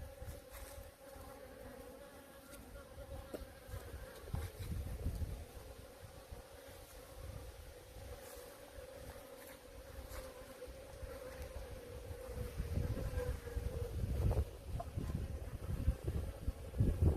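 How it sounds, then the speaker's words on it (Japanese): Honeybees swarming in cold November weather, drawn by the smell of beeswax being made: dense, continuous buzzing of many bees close by that grows slightly louder toward the end, with no talk. "蜜蝋の匂いに誘われていっぱい集まってきたそうです。"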